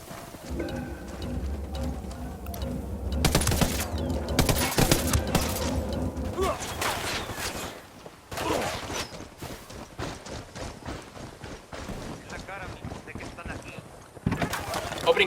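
Gunfire in the video game Ghost Recon Wildlands, a cartel firefight with bursts of rapid shots and dense crackling volleys, heavy early on, then scattered, ending in a fresh loud burst.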